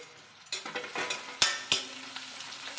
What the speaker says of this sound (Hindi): इधर प्याज भी हो गया है, तो इसमें हम लहसुन और अदरक डाल देंगे।